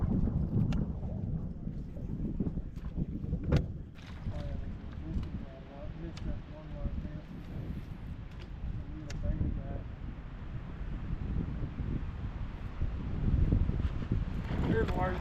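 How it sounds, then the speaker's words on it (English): Strong, gusty wind buffets the microphone on a fishing boat during spring bass fishing, with low rumbling roar and occasional knocks and thumps. "The wind's so strong"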